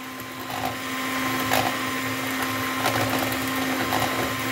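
An electric hand mixer with adjustable speed whisks a homemade chocolate ice cream mixture, giving a steady mechanical whir with a constant motor hum and faint rhythmic scraping against the bowl, close and continuous.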